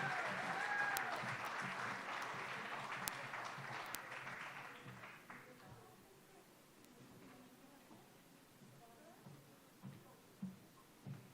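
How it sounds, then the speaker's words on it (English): Applause from an audience at a cultural award ceremony, a moderately loud burst of clapping that tapers away within about five seconds, leaving a quiet hall with occasional faint knocks and rustles. "give her a big round of applause"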